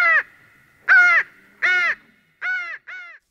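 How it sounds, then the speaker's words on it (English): A raven screams as an audiobook sound effect, five harsh, loud caws in a broken rhythm, close and isolated against silence. "the silence was shattered only by the scream of a raven."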